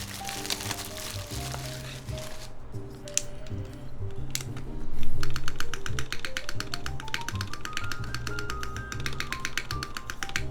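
Rapid keystrokes and spacebar presses on a polycarbonate TGR Alice mechanical keyboard with a sagging CRP spacebar that is loose on one side, sounding as dense, crisp clicks that grow busier halfway through over steady background music.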